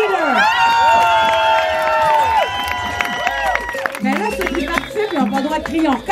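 A crowd at a freestyle salsa competition shouts and cheers loudly, with high whoops and yells layered over music and talk throughout.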